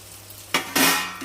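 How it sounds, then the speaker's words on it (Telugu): Cluster beans dropped into a pan of frying onion, curry leaves and ginger-garlic paste, giving two short bursts of clatter and hiss close by, with no talk. "ఇందులో గోరు చిక్కుడు వేస్తున్నా"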